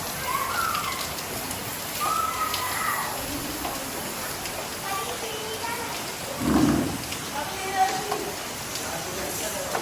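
Rain falls steadily outside a roadside dhaba, a dense, even hiss with faint voices and a few brief chirps in the background.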